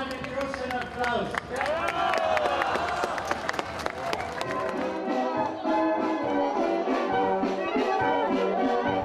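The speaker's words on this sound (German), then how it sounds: "Und unseren Vorsänger auch einen großen Applaus." A crowd at a Fasching carnival gathering in Kitzbühel claps and cheers amid loud chatter and voices, with sharp scattered claps over busy room noise throughout.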